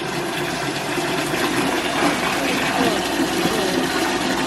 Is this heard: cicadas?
no